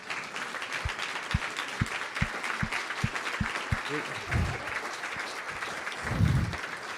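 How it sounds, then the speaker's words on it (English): An audience at a 20th anniversary celebration applauds as board members and staff stand, a steady wash of clapping with a few sharp low thumps, swelling briefly near the end. "Let's give them a round of applause."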